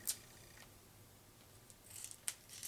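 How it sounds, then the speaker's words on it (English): Scissors snipping a strip of card paper, a few short crisp cuts close up, spaced irregularly with near silence between them. "So I'll cut another strip."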